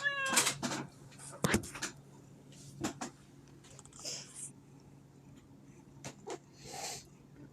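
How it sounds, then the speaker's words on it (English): A cat meows close by, a short clear cry near the start, followed by scattered clicks, knocks and rustling, with faint human talk in the background. "That's the guest star, not the lady, the cat."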